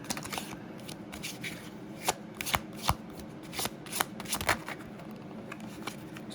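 Close, soft shuffling of a tarot deck, with papery riffles, light slaps and scattered sharper card snaps as cards are mixed and pulled, no voices.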